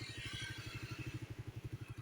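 A motorcycle engine idles nearby with a fast, even, throbbing pulse, steady and fairly loud, on an evening roadside stop.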